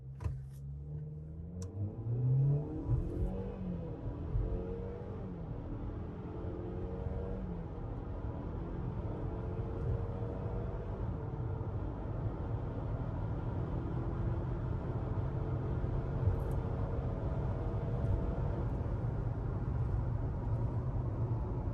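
A Cadillac in all-wheel drive and sport mode accelerates from 0 to 60, giving a steady engine and road roar. Rising harmonics sweep upward through the run, which stays loud throughout with no talk.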